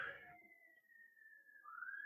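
A faint siren wails in the distance, a single sustained tone that drifts slowly and then jumps upward.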